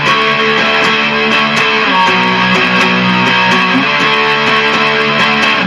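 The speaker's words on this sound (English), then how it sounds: "We're going to put the distortion on the amp." A heavily distorted electric guitar rings out loud and sustained, with repeated strummed chords blending into a thick, buzzing wall of sound.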